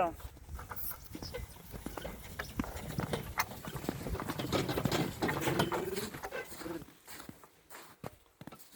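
A large Percheron horse pulls a load over ground, its hooves clopping unevenly in soft repeated steps with rattling and shuffling, while someone talks over it nearby.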